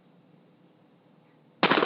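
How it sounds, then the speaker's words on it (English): A shotgun fires a rifled slug at 50 yards: after a stretch of faint background hush, a single sudden loud blast erupts right at the end. "Here's what happens when you fire a rifled slug at 50 yards."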